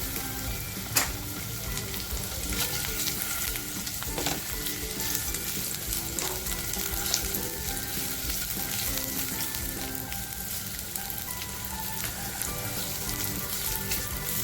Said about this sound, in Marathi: आपला कांदा फ्राय होतोय ना